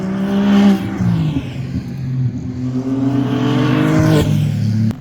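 Ferrari Challenge race cars lap the Brno circuit during qualifying, their engines rising and falling in pitch as they accelerate and pass, heard at a moderate distance with no talk.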